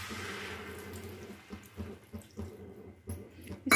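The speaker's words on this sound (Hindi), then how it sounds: "अब इसके अंदर हम डालेंगे 1 बाल्टी पानी।" A bucket of water is poured into a pan of crumbled leftover rotis being cooked into a masala snack: a soft rushing splash at first, then a few short sloshing bumps, close by with no talk.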